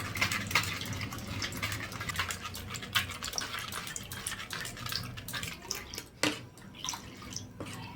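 Coriander and mint juice is poured and strained through a sieve, making continuous trickling and dripping liquid sounds with small splashes, close and moderately quiet, no voices.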